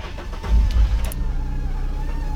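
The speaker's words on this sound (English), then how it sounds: "The car's running now." A car showing a check-engine warning cranks and fires up with a short, heavy low rumble, then settles into a steady, even idle close by.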